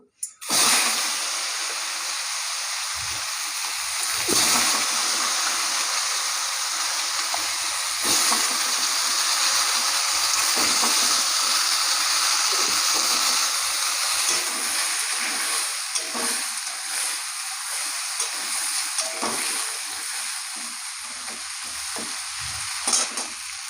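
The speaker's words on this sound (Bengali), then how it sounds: "এবারে আলুগুলো ভেজে নেবো" Loud, continuous sizzle of potatoes frying in hot oil, with spatters and intermittent stirring scrapes across the whole stretch.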